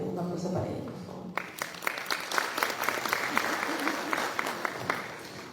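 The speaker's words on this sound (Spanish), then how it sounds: "Un aplauso para ella, por favor." Audience at an education innovation congress applauding speaker Sonia Suárez, clapping swelling after a voice and continuing as a dense, even round of claps in a large hall.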